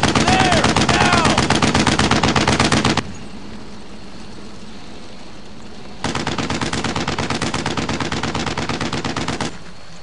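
Sustained MG-42 machine gun fire in the WWII shooter Brothers in Arms: Earned in Blood, loud rapid bursts in two long stretches separated by a quieter gap of distant battle noise.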